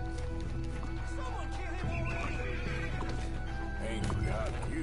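A horse in the video game Red Dead Redemption 2 whinnies loudly while galloping hooves pound steadily beneath, set against music and game ambience.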